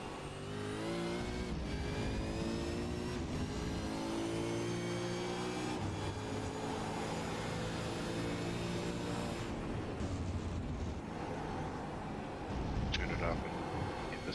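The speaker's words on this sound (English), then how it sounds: "sound of that V8." A V8 Supercar race car engine revs and shifts through gears on a racetrack during the Allports V8 Championship, loud and continuous, with commentators talking over it.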